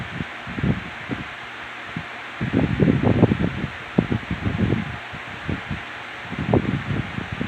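A Lasko 18-inch oscillating pedestal fan runs with a steady broadband airy whoosh, overlaid by uneven low fluttering gusts and rustle throughout.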